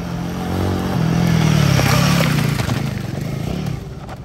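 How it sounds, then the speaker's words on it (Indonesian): A Royal Enfield Guerrilla 450 motorcycle's 450cc engine hums steadily nearby, its pitch rising and falling slightly as the bike rides along, with some clattering mechanical noise on top. "karakter mesin 450cc Sherpa-nya, karena sudah berteknologi ride by wire, responsif banget"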